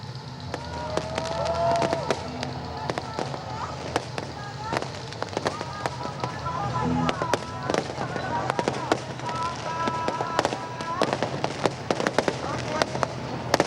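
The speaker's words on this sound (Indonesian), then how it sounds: "pesta kembang api pun sudah dilangsungkan di Bundaran HI, Jakarta Pusat" New Year's Eve fireworks at Bundaran HI, Jakarta, pop and crackle in rapid, irregular bursts over a dense crowd roar, with voices and tonal whistles mixed into the continuous din.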